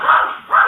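A dog gives two quick barks in a row, loud and close, each with a strong tonal yelp, and no talk over them.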